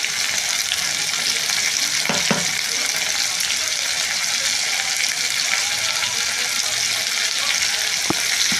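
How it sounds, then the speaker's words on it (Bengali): Tomato, ginger, dried chilli, cumin and bay leaf sizzle in a kadai, a steady loud frying hiss that runs unbroken throughout with a few faint clicks. "আর একটু কড়াইয়ের মধ্যে একটু তোমার টমেটো, আদা, শুকনো লঙ্কা, জিরে ফোড়ন, তেজপাতা ফোড়ন দিয়ে নিয়েছি"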